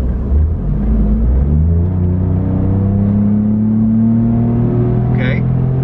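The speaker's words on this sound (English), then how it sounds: "Let's see if we can give it a little bit of a little wide open throttle pull here." A 2021 Ford F-150 with a Corsa exhaust pulls at wide open throttle, a loud deep exhaust roar climbing steadily in pitch through one long pull, heard close from the cabin.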